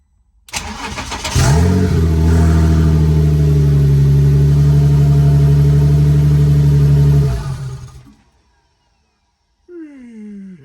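Twin turbo V6 engine in a rear-wheel-drive Mini cranks briefly, then fires into a loud, steady, close idle that holds for several seconds before shutting off, followed by a short whirring electronic noise.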